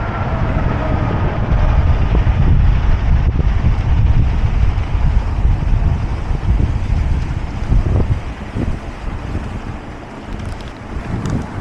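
Strong wind gusts across a large lake in cool pre-winter weather, a steady loud roar with heavy buffeting on the microphone that eases slightly toward the end.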